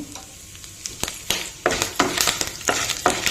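Curry leaves hit hot oil in a pan during a coconut and bean curry, starting with a soft sizzle and then bursting into a series of sharp, crackling spurts at an uneven rhythm.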